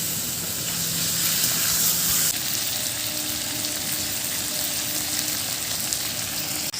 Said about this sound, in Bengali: চিকেনটা ভালোভাবে কষিয়ে নিয়েছি